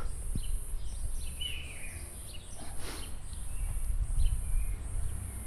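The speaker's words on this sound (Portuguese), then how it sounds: "ouve os pássaros" Outdoor birdsong in a calm spot overlooking a town, with faint scattered chirps over a steady pulsing insect drone and low background rumble.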